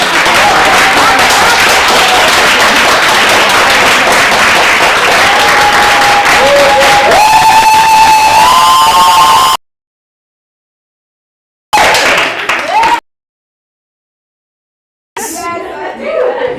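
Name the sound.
audience applause and clapping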